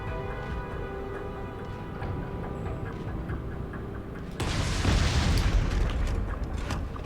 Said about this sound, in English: then I'll use a rocket launcher